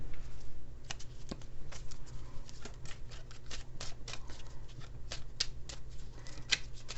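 Chinese fortune cookie oracle cards are shuffled by hand, a close, continuous riffle of papery flicks and slaps in an uneven rapid rhythm over a low background hum, no voices.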